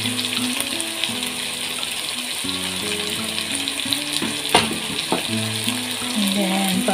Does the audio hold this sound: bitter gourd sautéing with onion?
yes